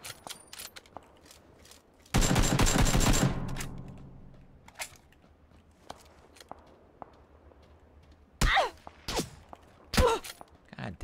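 Automatic rifle fire in PUBG, a dense sustained burst of rapid shots followed by scattered single shots and sharp cracks, with footsteps and mechanical clicks between.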